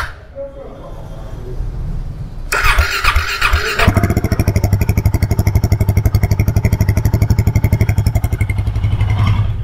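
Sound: motorcycle exhaust note idling

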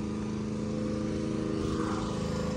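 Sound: Mercedes C63s V8 bi-turbo engine running

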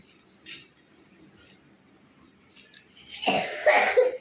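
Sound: person coughing

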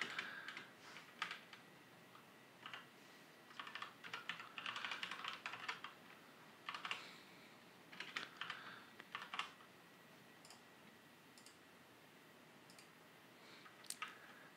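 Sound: typing on a computer keyboard

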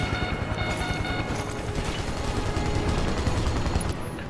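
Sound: gunfire in the video game Final Fantasy 7 Remake

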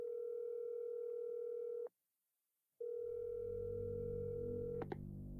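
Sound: telephone dial tone in video game Resident Evil 7

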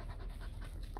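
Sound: dog panting

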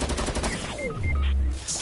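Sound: gunfire in the video game Fortnite

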